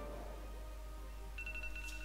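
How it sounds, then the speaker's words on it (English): A phone sounds a short run of quick, evenly spaced electronic beeps, faint and partly masked by a steady low hum. "My phone is beeping, which means we have to cut."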